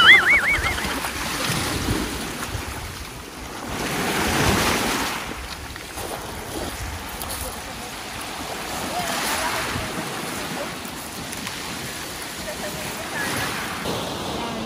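Sea surf rolling onto the shore at a beach resort in Pagkilatan, Batangas, Philippines, with steady broad wash and swells building and fading, mixed with wind buffeting the microphone.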